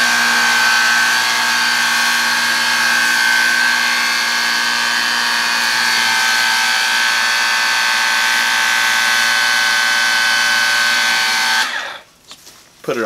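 A small power washer sprays water steadily onto Ryobi Link mobile tool storage, producing a loud, continuous high hiss and whine close by that cuts off abruptly near the end.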